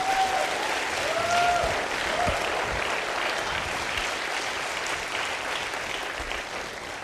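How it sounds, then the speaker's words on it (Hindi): Steady applause from a crowd, dense and sustained for several seconds, with a faint tone briefly ringing near the start. "मैं चाहता हूं एक बार तालियां संदीप जी के लिए भी हो जाएं"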